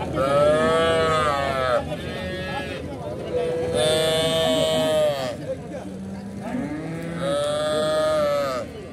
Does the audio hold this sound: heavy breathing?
no